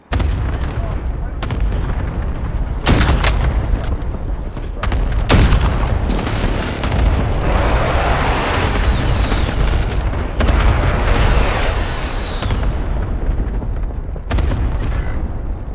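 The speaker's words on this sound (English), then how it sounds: "Airstrike target marked." Airstrike explosions in a military video game with a gas hazard, heard as a dense run of loud booms and heavy blasts over continuous battle noise, with several sharp impacts spaced through the scene.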